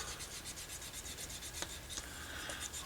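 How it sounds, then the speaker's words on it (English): A hand rubs glued material down onto a tool chest handle, producing faint, close, rhythmic scuffing strokes with a couple of sharper scrapes, all fairly quiet. "little rubbing helps to stick the glue down good, and it can work those wrinkles out."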